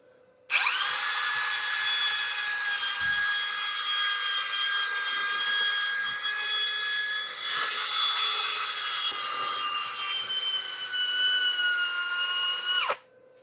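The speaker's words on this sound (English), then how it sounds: "I'm going to sand this now" A wood turning spinning on a lathe while being sanded, a steady loud whirring whine with a sustained tonal hum that shifts pitch slightly midway, running unbroken for about twelve seconds before stopping abruptly.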